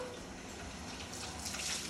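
Water from a Rinseroo hose sprays steadily in a shower, rinsing a window screen; a continuous hissing wash throughout, slightly rising near the end.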